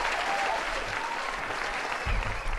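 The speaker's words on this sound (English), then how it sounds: "Let's give Tommy another round of applause" An audience applauds steadily throughout, dense clapping at moderate loudness with a brief swell of low crowd noise near the end.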